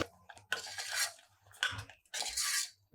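A spoon scrapes and clinks against a pot while stirring samai sweet pongal with roasted raisins, cashews and coconut, in three short close bursts separated by brief pauses.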